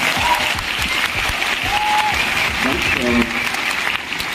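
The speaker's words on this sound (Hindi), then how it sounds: "उनके लिए जोरदार एक तालियां होनी चाहिए" Loud crowd applause fills a seminar hall, steady dense clapping from a large audience that holds for several seconds, with a voice briefly heard over it.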